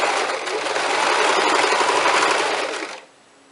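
Sewing machine stitching fabric in a fast continuous whir of needle strokes, close and loud for about three seconds before stopping abruptly.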